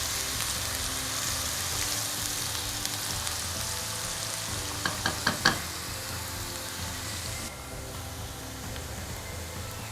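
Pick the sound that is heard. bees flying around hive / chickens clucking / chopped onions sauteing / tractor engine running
chopped onions sauteing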